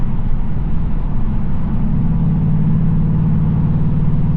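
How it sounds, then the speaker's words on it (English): Steady, loud low engine drone with exhaust rumble from a Ford Mustang Dark Horse cruising at constant speed, about 80 mph at 2,200 RPM, no voices. "The exhaust sounds really good in this car too."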